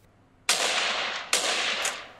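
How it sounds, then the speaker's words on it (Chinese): In-game gunfire from PUBG Mobile (Game for Peace) played through the speakers of a Lenovo Legion gaming phone: two loud sustained bursts of shots, each starting with a sharp crack and ringing out, with no talk. "我们听一下同一场景和平精英的枪声，声音表现最浑厚的是拯救者"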